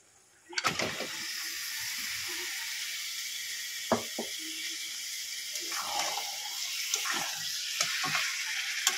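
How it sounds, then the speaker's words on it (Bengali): Beef with spices including nutmeg and mace sautéing in a pan for beef curry, a sizzle that starts abruptly as the meat goes in, then holds steady with scattered scrapes and knocks of stirring, close and wordless. "ভালো করে মাংসটা কষিয়ে নেব।"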